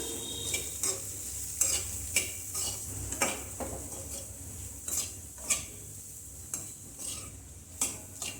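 Kashmiri red chilli, black pepper, coriander powder and turmeric are stirred in a hot pan while making pasta; a low sizzle runs beneath repeated rhythmic spoon scrapes and clinks against the metal.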